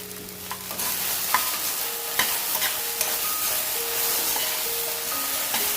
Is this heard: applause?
no